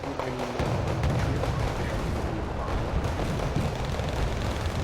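Continuous artillery shelling and explosions in the real-time strategy game Wargame: Red Dragon, a dense, loud rumble of blasts and booms running unbroken through the clip with no voices over it.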